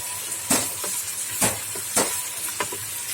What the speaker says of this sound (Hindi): मैं इसके अंदर टमाटर ऐड करने लगी हूँ